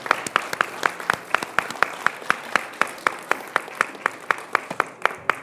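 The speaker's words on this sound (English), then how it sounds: "And we should give them another round of applause for their wonderful evening tonight." An audience applauds the Tacoma Refugee Choir, though the claps land in a slow, even rhythm like a single pair of hands clapping up close, steady and fairly loud throughout.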